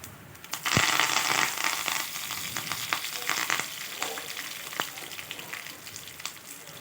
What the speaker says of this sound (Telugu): ఇప్పుడు ఆయిల్ అనేది వేడిన తర్వాత మినపప్పు ఒక స్పూన్ అంత మినపప్పుని వేసుకొని జీలకర్ర వేసుకున్నాను ఎండుమిర్చి కరివేపాకు కూడా వేసుకుందాము